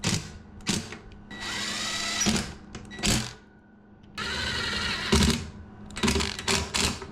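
Power drill driving screws into a bunk bed frame, several whirring bursts of a few seconds each separated by brief pauses and clicks, close and fairly loud.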